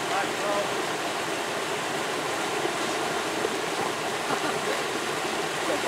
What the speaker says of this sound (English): It's like a bumpy waterfall.